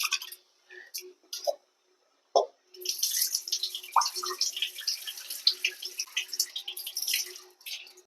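Basmati rice being gently rinsed by hand in water for a fish biryani, with splashing, swishing water in a bowl or sink filling most of the clip after a few brief knocks and short sounds.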